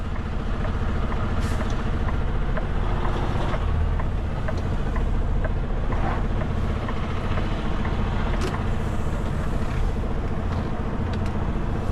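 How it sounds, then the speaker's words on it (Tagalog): A delivery truck's engine rumbles steadily as it drives in, a loud, continuous low drone with faint clanks and hisses on top and no talking. "Pinasok ko yung truck dito."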